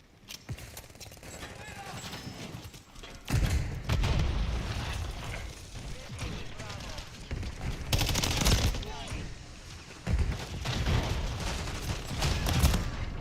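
Gunfire in the Call of Duty Modern Warfare III video game, with dense bursts of automatic shots and mechanical clatter that build in intensity, while game voices call out over the action.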